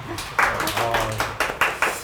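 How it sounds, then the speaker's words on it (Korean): A small studio group claps in a few uneven bursts, close and sparse, with short pauses between the claps and a bit of low background voice. "네, 박수 한번 쳐주세요."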